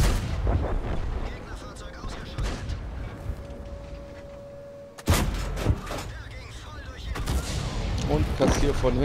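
A T-92 artillery shell slams into a tank in World of Tanks, a sudden loud blast midway that cuts through a steady hum of battle noise, with more gunfire and rumble after.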